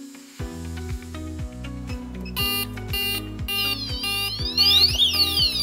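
An addressable fire alarm control panel sounds its alarm state after the alarm button is pressed: a loud, rapid repeating electronic tone pattern with rising and falling sweeps, steady and alone.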